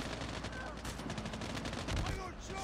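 Rapid gunfire from a shotgun in Call of Duty Mobile, a dense run of loud repeated shots and game effects with faint talking beneath.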